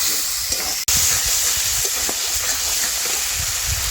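Water poured into a pan of frying ground cumin, coriander and mustard paste for an Indian mackerel curry, giving a steady loud sizzle and steam hiss throughout with a brief dip near the start.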